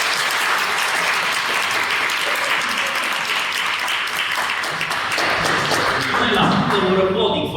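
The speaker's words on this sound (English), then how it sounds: "we're applauding for you" Dense, steady applause from a meeting audience at a Toastmasters club gathering, continuous and fairly loud for several seconds with a few thumps, then thinning slightly toward the end.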